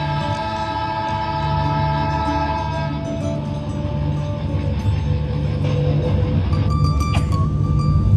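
Recorded train sound effect playing during a light and sound show at Noor Mahal palace in Bahawalpur, a steady rumbling railway roar with rhythmic clatter and tonal whistle-like notes, loud and continuous over several seconds.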